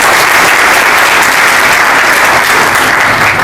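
Loud, dense applause from a seated crowd at the 17th anniversary celebration of Navdisha Vichar Manch, honoring the volunteers, steady and sustained throughout without speech.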